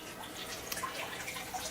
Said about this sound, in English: When the water drains down to that level, the little holes break the suction and the siphoning stops.